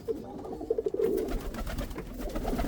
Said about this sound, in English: The Chinese owls are such a beautiful pigeon.